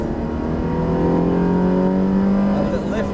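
A Ferrari 360 engine pulls hard on the Brands Hatch circuit, loud and close from inside the cabin, its tone climbing steadily through the revs in one sustained run of acceleration.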